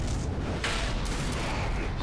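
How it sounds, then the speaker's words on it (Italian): Gunfire outside in the video game Assassin's Creed 3: dense, muffled rumbling bursts of shots and booms over a continuous noisy battle din, moderately faint and lasting about two seconds. "Spari fuori."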